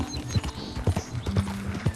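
Horse hooves from Red Dead Redemption 2 clatter in a quick, uneven galloping rhythm with heavy thuds as the horse jumps, close and fairly loud throughout.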